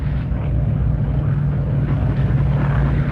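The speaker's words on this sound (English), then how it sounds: "A moment ago, we heard the engines of heavy aircraft" Heavy aircraft engines, Stirling bombers flying low overhead, a steady continuous drone with a strong low hum that holds at an even loudness throughout.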